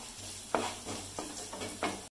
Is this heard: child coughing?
no